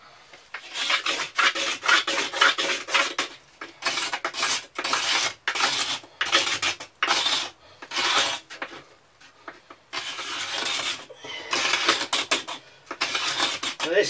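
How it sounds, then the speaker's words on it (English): Rasping scrapes over the wood of a short survival bow, close and steady, in rhythmic strokes grouped into bursts with brief pauses between. "I'll give it a bit more of a scraping again."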